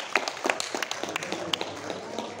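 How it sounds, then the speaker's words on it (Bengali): An audience claps at a drama performance to encourage the performers, a sparse, uneven patter of individual hand claps that is moderately close and fairly quiet, with no voices. "হাততালি দিয়ে উৎসাহ দিন।"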